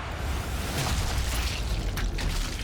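A game explosion in Sniper Elite 5 booms as a sustained, loud low rumble, holding steady for the whole stretch with no talk over it.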